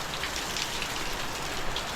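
Steady rain pours down in the Philippines, a dense even hiss of drops striking surfaces near a covered porch, continuous and unbroken with no voices.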